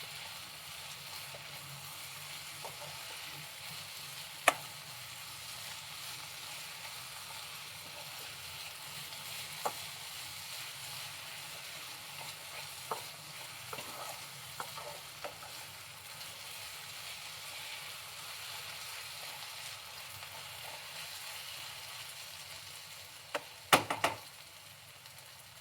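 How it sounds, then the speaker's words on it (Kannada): Chopped raw mango frying in oil in a pan for chitranna rice, a faint steady sizzle and hiss with occasional clicks and scrapes of a spoon against the pan, no voices. "ಫ್ರೈ ಮಾಡ್ಕೊಳ್ಳಿ ಎಣ್ಣೆಯಲ್ಲಿ"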